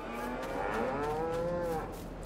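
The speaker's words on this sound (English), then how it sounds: "Cows are noisier." A cow in Farming Simulator 22 lets out one long, rising and falling moo over a steady low hum of farm machinery.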